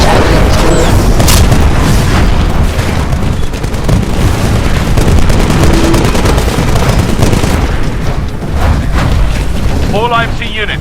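Titan destruction in Titanfall on Xbox One: a loud, continuous barrage of booming explosions and gunfire-like bursts, dense and close, with voices briefly cutting through near the end.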